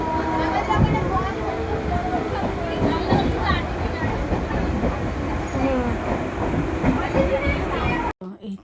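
A passenger train runs with a continuous loud rumble and rattle of carriages, faint wheel clatter and voices mixed in, cutting off abruptly near the end.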